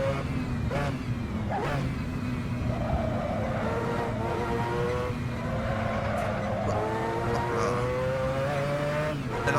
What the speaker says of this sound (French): Ah, puis le son de cette Mazda avec son moteur rotatif.